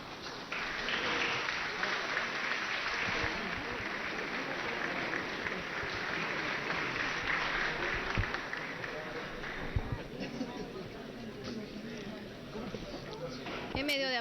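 Applause fills a legislative plenary session as new board members take office, a steady broad wash of clapping throughout with voices mixed in.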